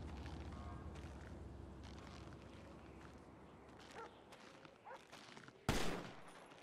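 Bursts of GTA 5 gunfire from enemies on the left during a rooftop shootout in a truck heist: scattered shots over a rumbling background, soft footstep-like thuds, then one sharp, loud blast near the end.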